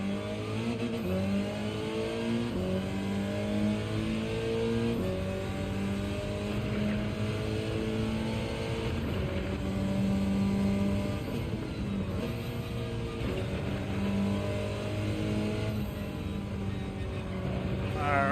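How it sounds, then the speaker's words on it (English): A turbocharged car engine in Gran Turismo 7 revs through rising and falling gear sweeps, loud and continuous for the whole stretch, with the engine note climbing, dropping at shifts and climbing again. "Oh, listen to that turbo."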